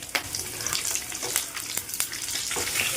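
Garlic cloves and green chillies fry in hot oil, giving a bright, continuous crackling sizzle with occasional sharper pops and stirring taps throughout.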